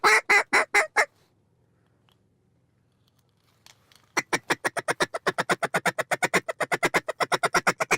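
Pintail ducks, including drakes, quacking on a hunt in rapid bursts: a short run of loud calls, a pause of near silence, then a long steady series of repeated quacks, close and clear with no talk.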